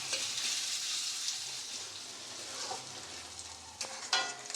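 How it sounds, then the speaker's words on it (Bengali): Chopped onions fry in a pan, a soft steady sizzle with a few scraping stir strokes, close but fairly quiet, and a couple of sharper scrapes near the end; no voices. "পেঁয়াজ কুচিটা ভেজে নেব"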